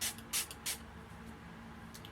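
Makeup Forever Fix Plus setting spray hisses from its pump bottle in three short, close bursts, then a faint fourth spritz near the end, quiet and without any talk.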